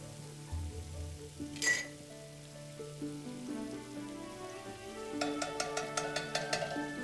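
Steady crackling sizzle of coconut cream and red curry paste frying in a pan, with soft tonal music underneath, a sharp clink early on and a quick run of taps near the end.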